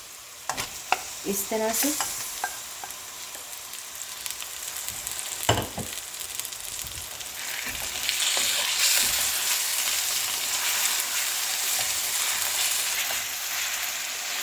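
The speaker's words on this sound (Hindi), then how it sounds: "कीमा डालकर अब इसको अच्छे से फ्राई कर लें।" Minced meat (keema) fries in a karahi, a steady broadband sizzle with scraping stirs and a few clanks of the spoon, close by, with one brief spoken remark near the start.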